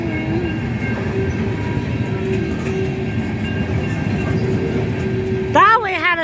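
A Union Pacific coal train, number 7225, rumbles past loudly and steadily, and the engineer sounds a strong horn blast near the end, with voices nearby.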